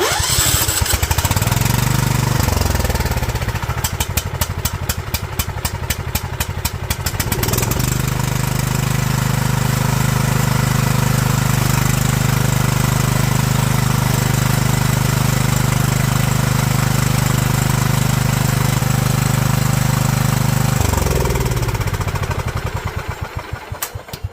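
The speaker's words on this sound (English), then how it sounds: "let's give it some choke and see if it'll pump some gas and fire." A John Deere L110 lawn tractor engine cranks with its starter, stumbles, then catches and settles into a steady, loud idle for a long stretch. Near the end it sputters and cuts out, with no talking.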